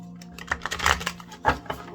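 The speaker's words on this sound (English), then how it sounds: "Do a quick shuffle." Quick crisp riffling and snapping of a deck of cards being shuffled, a few brisk bursts close by, with no talking.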